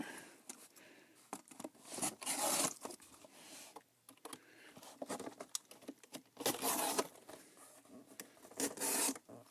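Knife blade slicing through the corner of a cardboard shipping box being made to mail LEGO, heard as close, raspy cutting strokes in bursts with short pauses between.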